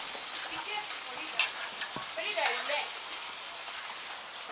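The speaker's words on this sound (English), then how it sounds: "This is my pomo in my pepper on the fire, frying very nice." Diced pomo and pepper fry in a pot over a fire for a Nigerian bitterleaf vegetable soup, giving a steady close sizzle and crackle with scattered pops and faint stirring throughout.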